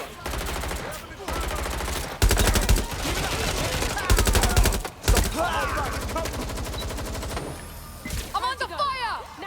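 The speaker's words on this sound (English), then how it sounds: "I'm under fire!" Gunfire in the Watch Dogs Legion video game, repeated machine-gun bursts and single shots in rapid clusters, loud and close, with shouted game voices and other effects between volleys.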